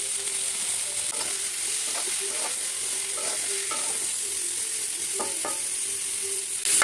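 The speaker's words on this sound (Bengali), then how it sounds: "সবজিগুলো, আলু বেগুন ডাটা সব ভালো করে ঠিক ভাজা ভাজা হয়ে" Potato, eggplant, drumsticks and other vegetables frying with green chili, chili powder and salt, a steady loud sizzle with repeated scraping and clinking stirring strokes in the pan.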